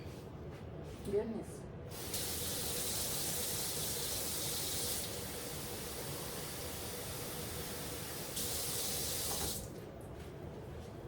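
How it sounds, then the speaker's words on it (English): Water poured into a crock pot for a pork loin, a steady broad hiss of pouring running for several seconds, fairly close and moderately loud, with a brief clatter before it starts. "I'm going to add a little bit of water"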